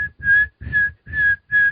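A young girl whistles five short, steady notes in an even rhythm, each separated by a brief gap, close and loud with no talking.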